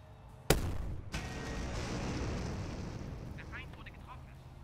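A WW2 artillery gun fires once in a strategy game, giving a sharp close blast and then a long rumbling decay that slowly fades. A voice speaks briefly afterward.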